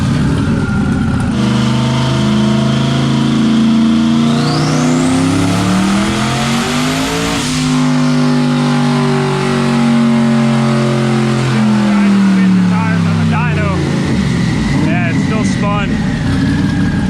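A boosted car engine on a dyno revs up steadily under load to a high pitch during a pull, then drops back and settles, loud and close throughout.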